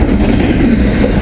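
A train passes close on the tracks near Hamilton, a loud, steady low rumble of rolling wagons filling the moment without pause or voices.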